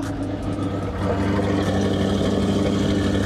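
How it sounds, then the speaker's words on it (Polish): Chevrolet Corvette C8 Stingray engine, a damaged US import, idling steadily and loud, a continuous low rumble with a smooth even tone throughout, no talk over it. "fajnie chodzi ten silnik"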